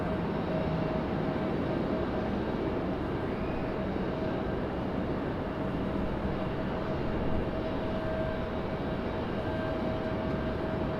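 A Southwest Airlines plane comes in to land at Raleigh-Durham International Airport, a steady, loud jet engine roar with a sustained whine that holds evenly throughout, no voices over it.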